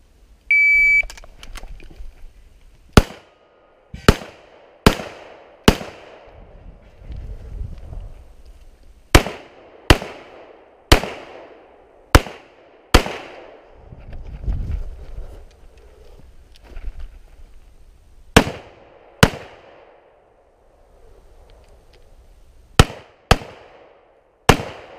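Gunfire at a sport shooting competition stage in Bratislava: about sixteen sharp, loud shots in short bursts separated by pauses, with a faint low rumble between them.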